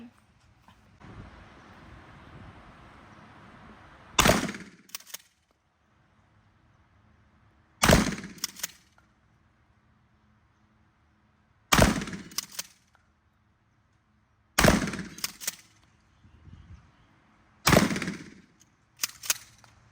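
A gun fires five single shots in a slow, evenly spaced series, each a loud close crack with a short decay and quiet pauses between.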